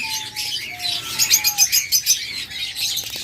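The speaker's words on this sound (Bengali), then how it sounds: "আমাদের কাছে রয়েছে হিউজ পরিমাণ ডায়মন্ড ঘুঘু" Caged diamond doves at a bird dealer's give soft, fairly quiet calls, including a short run of rhythmic cooing pulses in the middle, with faint chirps around them.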